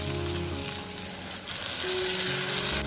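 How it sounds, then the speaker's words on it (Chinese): Eggplant and long beans sizzle loudly in a wok as a prepared sauce goes in, a continuous crackling fry that swells slightly louder near the end, with no voices. "翻炒均匀之后，将调好的料汁倒进来"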